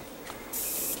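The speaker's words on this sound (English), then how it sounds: "So right now I'm spraying at a low PSI." An airbrush spraying paint at low pressure, just over 10 PSI, lets out a short, bright hiss that starts abruptly after a faint puff, holds steady, then cuts off.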